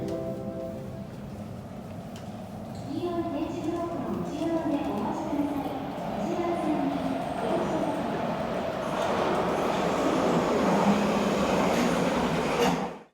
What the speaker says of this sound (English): A train is arriving at track number 2.